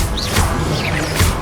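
Confringo fire spell blast in Hogwarts Legacy, a brief loud crashing burst with a fiery whoosh, dense and close across the whole short moment.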